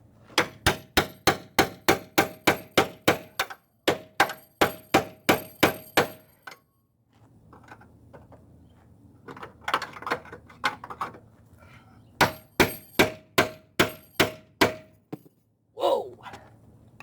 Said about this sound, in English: Maybe we can hit it with the hammer.